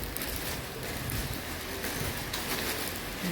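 Steady, dense rain hiss filling the whole scene, constant and fairly loud without pauses, with no voices.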